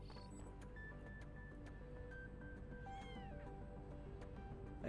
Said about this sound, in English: A kitty cat.